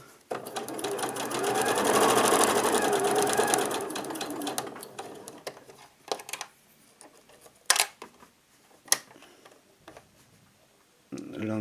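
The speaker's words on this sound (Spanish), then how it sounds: "Lo mismo, voy a coser un par de milímetros por encima." A sewing machine stitches a baby quilt, running loud and steady for about four seconds, then stopping, followed by a few sharp clicks and short bursts of handling.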